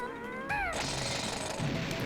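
Banjo's Bill Drill smashes a boulder in Banjo Tooie, a sharp cartoonish squeal followed by a loud, rattling drilling crunch that keeps going to the end.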